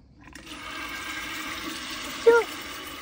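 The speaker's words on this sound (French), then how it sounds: "On remet de l'eau, vas-y, mets le jet dedans" Water from a garden hose gushes steadily into a bucket, a continuous splashing rush nearby with a brief sharper splash near the end.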